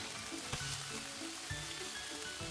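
A pan of stir-fried food sizzles as a seasoned sauce thinned with a little water and pepper cooks down, giving a dense, even frying hiss with a few soft stirring knocks, near and steady, no voices.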